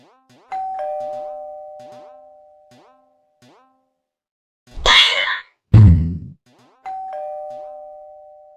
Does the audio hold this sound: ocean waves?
no